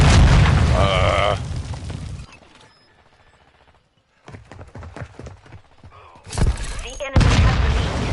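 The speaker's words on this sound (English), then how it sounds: "Throw a grenade! Grenade out!" Grenade blasts in Modern Warfare 2 multiplayer: loud booming bursts at the start and again near the end, with a quieter stretch of scattered gunfire and game noise between, and voices talking over it.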